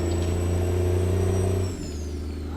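Truck engine in American Truck Simulator, a loud steady low drone that drops in pitch and eases off partway through.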